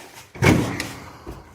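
The door of a 1972 Chevy 4x4 truck under rust repair, giving one solid close thump as it swings shut, followed by a fainter knock a moment later.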